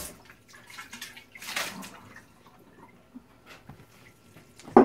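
A kombucha strainer rinsed under running water, a soft splashing hiss that swells briefly, with faint drips and light handling sounds close by.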